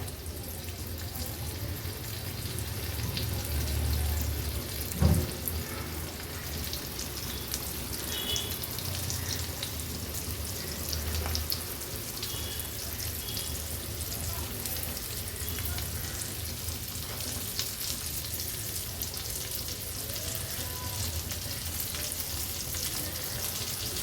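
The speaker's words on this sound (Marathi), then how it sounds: "आता एक एक करून रव्यामध्ये घोळून घेतलेल्या ह्या कोलब्या आपण तळायला ठेवूया।" Semolina-coated prawns frying in a thin layer of oil, a continuous soft sizzle with a sharp clatter as pieces go into the pan, steady and close throughout.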